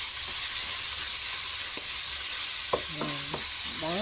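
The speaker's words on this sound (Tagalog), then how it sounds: "Yung liver na lang lulutuin natin." Liver stir-frying for chop suey: a steady, close sizzle and hiss runs throughout, with a few scraping stirs of the utensil toward the end.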